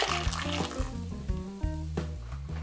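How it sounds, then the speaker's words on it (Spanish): Water left from boiling tomatoes is poured into a pan in a home kitchen, a steady splashing pour heard close up with clattering tonal kitchen sounds mixed through it. "Le ponemos el agua con el que hervimos nuestro jitomate."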